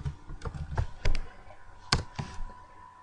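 Scattered clicks of typing on a computer keyboard, a handful of light taps spaced irregularly over steady room noise, close and moderately loud.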